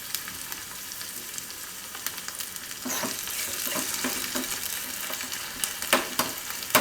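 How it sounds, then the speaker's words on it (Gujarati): Spices, garlic and cumin frying in hot oil give a steady crackling sizzle that grows denser midway, with scattered stirring clicks near the end. "એકાદ મિનિટ શેકી લેવાનું આમાં તેલમાં"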